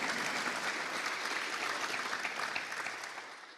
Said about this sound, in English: give up a round of applause